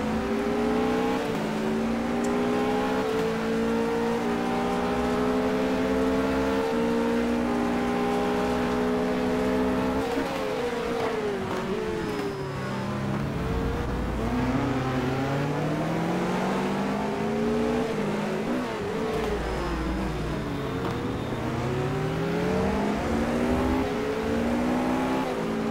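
Race cars lapping a circuit in a GT sim racing game, their engines whining loud and continuous as the pitch climbs through the gears, dips on the downshifts and swoops up and down in overlapping tones.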